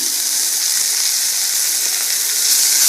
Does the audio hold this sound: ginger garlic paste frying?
yes